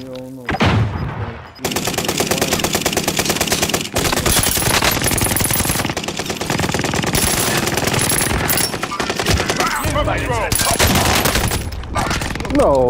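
Heavy, continuous gunfire in Call of Duty: Warzone Pacific, with dense overlapping automatic bursts and shots loud throughout, while voices talk over the battle.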